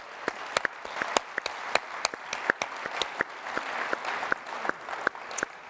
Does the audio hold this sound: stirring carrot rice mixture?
no